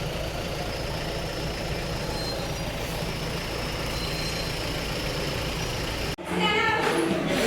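A car pulling away from a wedding gathering gives a steady low engine rumble and road noise for about six seconds before the sound cuts off abruptly and a brief different ambience follows.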